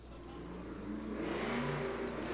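A monster truck engine at an indoor arena revs up steadily on the throttle during a slow freestyle move, with a rising, rumbling roar that grows louder and sustains over a couple of seconds.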